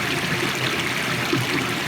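Pumped seawater flows up through stacked oyster culture tanks, a steady, close, full rushing and trickling wash with no talking.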